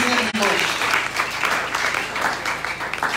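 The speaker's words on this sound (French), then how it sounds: "Acclamons pour la blague" A congregation at a church sermon breaks into loud, sustained applause. The dense clapping stays even and close for the whole stretch, with a brief dip near the start.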